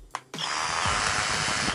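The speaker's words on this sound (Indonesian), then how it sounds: "Hammer drill di speed 1." A hammer drill in hammer mode on its lowest speed setting whirs up sharply after a brief tap and runs at a steady, loud, close-up pitch with no pauses.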